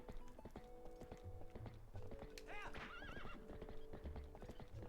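A horse in the video game Zelda: Twilight Princess clip-clops along steadily and lets out a loud whinny midway, close and clear over a layered game soundtrack.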